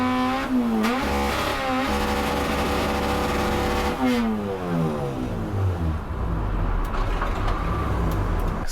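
A car's engine revs repeatedly during auto-blip testing, with rising and falling pitch sweeps and sharp throttle blips, loud and close, with no talking.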